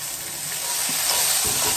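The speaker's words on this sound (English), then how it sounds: "We're just going to saute these onions." Onions sauteing in olive oil in a pan after beef has been cooked, a loud continuous hiss and crackle of sizzling that holds steady throughout, with a few soft stirring scrapes underneath and no talking.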